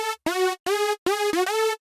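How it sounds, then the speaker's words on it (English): A clean saw synth lead from the Fruity Masters sound bank plays a short hardstyle melody of four bright, wide, sustained notes with brief gaps between them, loud and alone. "More of a clean saw. This adds more of a wide sound,"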